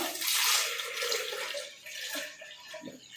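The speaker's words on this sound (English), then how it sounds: "Let's add our water." Water poured into cut-up carrots, star fruit and ginger while making Jamaican carrot juice, a fairly loud, steady splashing rush that is strongest at the start and eases into lighter trickling.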